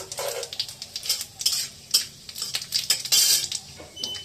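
Panch phoron spices sizzle in hot mustard oil while a spoon stirs and clinks against the pan, a close, busy mix of bright crackling sizzle and repeated metal scrapes.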